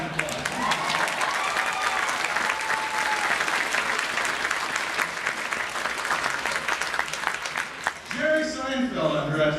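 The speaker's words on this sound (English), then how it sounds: "Yeah, let's give each other a round of applause." A crowd at a graduation ceremony claps loudly and continuously for several seconds, the applause thinning out as voices and cheering rise near the end.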